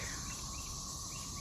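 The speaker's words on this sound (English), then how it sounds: "There's a cicada up there right now." A cicada calls from the trees in a square spiral garden, a steady, continuous high buzzing drone that fills the background without pause, with no talk over it.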